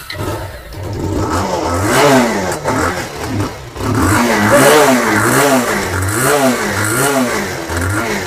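A Road King 220 motorcycle at a bike showroom near Kolkata is revved repeatedly, its engine rising and falling in loud, close throttle blips with a clattery mechanical edge and a brief drop back to idle between bursts.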